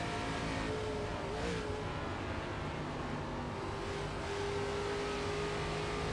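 A race car at the Brickyard, racing in a Midwest Elite Racing event, roars with a steady, dense engine drone that holds throughout, with a slight pitch shift partway through and no voices.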